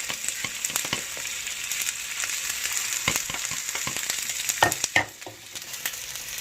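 Mushrooms frying in a pan for vegetarian fried rice, a continuous close sizzle with scattered utensil scrapes and clicks, and a louder stirring clatter near the end before the hiss settles.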